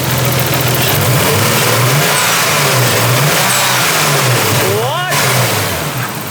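A Nissan R32 Skyline engine, revived after a barn-find restoration, idles steadily with a rough, uneven beat as if running on five cylinders, loud and close throughout, with excited voices briefly talking over it.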